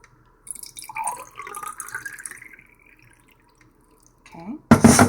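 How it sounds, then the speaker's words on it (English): Filtered fridge water drips and trickles into a plastic bird waterer. Small intermittent drops and a short pouring sound come up close and fairly quiet, and a louder splash of filling water ends the sequence. "all you do is fill this part up with water"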